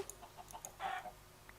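A chicken in the video game Minecraft gives a short, faint cluck against a quiet background with a few soft clicks.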